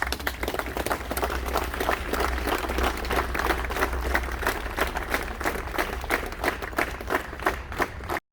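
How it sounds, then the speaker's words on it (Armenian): An audience claps together in sustained applause honoring fallen heroes of the 44-day war at a memorial opening in Yerevan, dense steady clapping throughout that cuts off abruptly at the end. "ուզում եմ ուղղակի բոլորս միասին ծափահարենք մեր բոլոր հերոս ընկածների համար"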